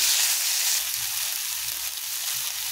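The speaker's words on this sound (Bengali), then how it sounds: "তো টমেটোগুলোকেও সেম একটু নাড়াচাড়া করে মশলাটার সাথে ভালো করে আমি ভেজে নেব যতক্ষণ পর্যন্ত না টমেটোটা নরম হচ্ছে।" Chopped tomatoes frying with spices in oil for egg do-pyaza, a steady close sizzle with low stirring scrapes underneath, continuous and fairly loud, no talk.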